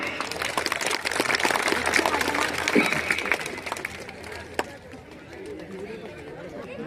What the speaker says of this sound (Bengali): সবাই আমরা করতালি দেই।